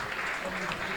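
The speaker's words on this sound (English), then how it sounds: "Mark Scott's getting a very generous round of applause here from the Merthyr fans and the Slough fans" Football fans at a Merthyr Town versus Slough Town match give a player a short, generous burst of applause, a dense patter of clapping from the stands.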